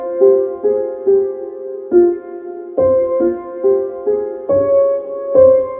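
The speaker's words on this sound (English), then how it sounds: "Let me create a simple dark melody real quick." A dark minor-key melody programmed in FL Studio 21, a steady run of synth notes with clear harmonics, each note starting sharply and sustaining in a slow, even rhythm. The notes are loud and close, with no voice over them.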